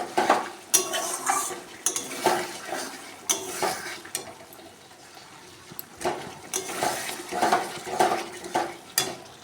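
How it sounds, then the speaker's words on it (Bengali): Spice paste for a rohu fish curry is stirred and fried in a pan over a raised gas flame, giving repeated close scraping and clinking strokes over a soft, faint sizzle, with no talking. "এবার আমি গ্যাসের ফ্লেমটা বাড়িয়ে দিয়েছি এবার তাড়াতাড়ি করে মশলাটাকে ভেজে নিই"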